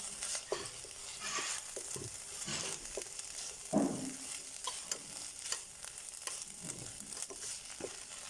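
Beef for goulash browning in a pan, a continuous sizzle broken by repeated scraping and stirring strokes, close and fairly quiet, with no talking.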